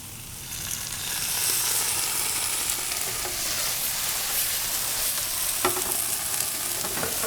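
Sauce is poured onto wilted mushrooms in a hot pan for baked mushroom parm sandwiches, setting off a continuous close hissing sizzle with a couple of faint utensil taps.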